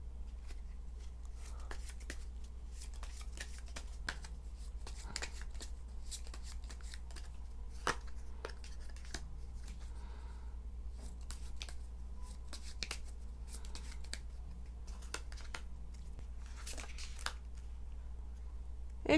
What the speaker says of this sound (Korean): 자, 그렇다면 조언 카드 뽑아볼게요.